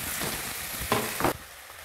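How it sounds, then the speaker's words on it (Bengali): Garlic, ginger, onion and green chilli frying in a pan with a soft continuous sizzle and a couple of stirring scrapes, close up, before the sound drops away near the end. "দিচ্ছি হালকা পেঁয়াজ অনিয়ন, এগুলোকে হালকা নাড়িয়ে নেবো"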